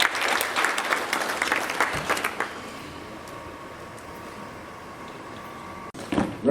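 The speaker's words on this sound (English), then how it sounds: "A round of applause," Audience at a National Assembly competition final in Abuja applauding to welcome a National Commissioner, a loud burst of clapping for about two seconds that thins into a quiet murmuring hall, with a brief thump and renewed clapping near the end.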